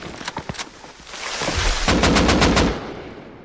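Bursts of automatic gunfire from the survival game Rust ring out near a base, starting with a few sparse shots and building into a loud, rapid volley that then tails off.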